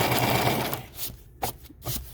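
A sewing machine stitches fabric for a hand fan, a steady close rapid mechanical whir that cuts off partway, leaving a few soft clicks and handling taps.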